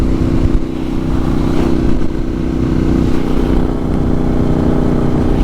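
A motorcycle rides along a busy main road, its engine droning steadily and loud with wind rumble throughout, no talking.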